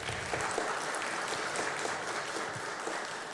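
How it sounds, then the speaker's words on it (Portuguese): Applause from a conference audience at a panel session acknowledging a participant, an even, continuous patter of many hands at moderate level with no voices. "Palmas para o John."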